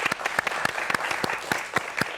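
Applause from a studio audience at a popular science lecture on magic, with distinct sharp claps over a steady wash of clapping, moderately near, lasting about two seconds without talk.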